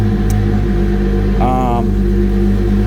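A motor runs steadily with a low, even hum inside a showroom. A brief rising whir marks it catching, then it settles back into a smooth, loud idle.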